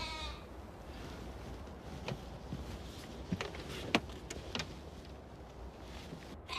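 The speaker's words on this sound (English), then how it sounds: "God put that sheep in front of us so that we could kill it." Sheep bleating: a few short, thin bleats and clicks rising from a steady outdoor noise bed, moderately faint and spaced irregularly, with no talking.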